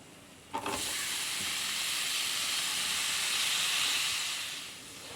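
Finely chopped tomatoes drop into hot masala in a pan and burst into a loud, sustained sizzle that holds steady, then eases off toward the end.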